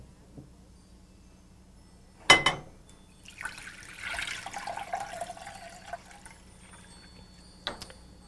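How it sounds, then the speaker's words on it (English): Cold water is poured into a pot for an herbal ginger root decoction, starting with a clunk, then a few seconds of splashing and trickling, then a sharper knock near the end. "Then we're going to add cold water."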